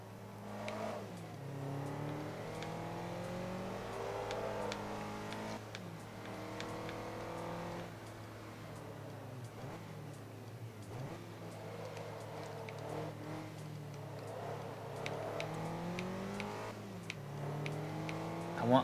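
A race car engine in the video game Forza Motorsport 3 revs up repeatedly, each rising whine snapping down at a gear shift and climbing again in a steady cycle of acceleration.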